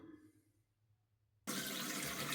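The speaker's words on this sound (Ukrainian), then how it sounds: "Зараз я просто вмиюсь водою." Water from a tap pours steadily, close and fairly loud, as someone splashes it onto their face during an evening skincare routine, starting abruptly after a quiet pause.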